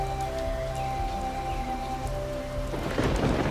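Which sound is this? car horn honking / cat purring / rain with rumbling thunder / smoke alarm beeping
rain with rumbling thunder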